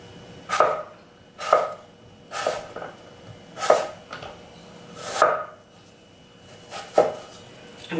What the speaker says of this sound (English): So I'm just gonna cut it into slices. And then let's do our half moons.